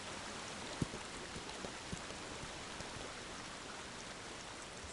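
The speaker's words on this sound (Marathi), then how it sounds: "ह्या धबधब्याची खरी सुंदरता त्याच्या वाहण्यात आहे. तो वाहतोय आणि तो कायम वाहतच राहील." Waterfall in an animated cartoon setting, a faint, even rush of flowing water with a few small splashy ticks, steady and unbroken with no speech.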